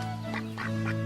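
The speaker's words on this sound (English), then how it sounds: "I am trying to count my ducks." Ducks quacking in a short run of three distinct calls, fairly close and clear, set over a steady tonal background hum with no talking.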